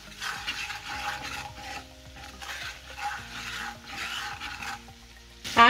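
Kasuri methi and cardamom powder being stirred into a butter tadka, with a steady scraping stir and soft sizzle running throughout, ending in a brief louder clatter.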